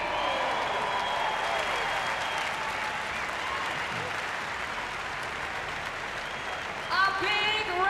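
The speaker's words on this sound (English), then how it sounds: "A big round of applause for our top" A large arena crowd applauds and cheers steadily at the finish of the final event of the 2019 Reebok CrossFit Games, a dense, sustained wash of clapping, with brief voice-like calls near the end.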